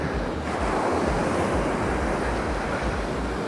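Sea waves break steadily on the shore at Calella near Barcelona, a continuous loud wash of surf with rumbling low churn and wind buffeting the microphone, no voices.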